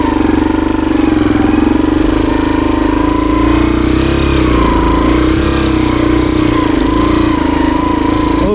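A motorbike engine runs loud and steady from start to finish, a constant droning rumble with no pauses, recorded close up during a ride.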